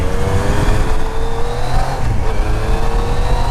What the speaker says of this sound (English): Oh, those sweet, sweet triple cylinder sounds.